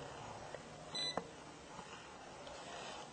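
A tachometer's RPM alarm sounds on a test bench as engine speed is pushed past its limit: one short, moderately loud electronic beep stands out against a steady mechanical hum.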